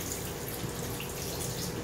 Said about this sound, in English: I'm going to just wash my hands